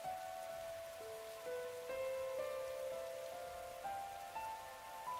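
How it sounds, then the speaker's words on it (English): Heavy rain pelts a rooftop in the video game The Hundred Line, a steady, hissing downpour with soft tonal music playing over it. "It's raining, too. It's really coming down hard."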